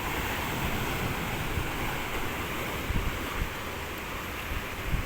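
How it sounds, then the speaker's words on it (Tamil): Sea waves crash against pillars along Kasimedu beach in Chennai, a continuous roaring surf wash with wind buffeting the microphone and a few heavier thuds standing out, no voices. "தண்ணி அதில் வந்து டம்மு டம்முன்னு மோதுதுங்க சரியான சவுண்டு"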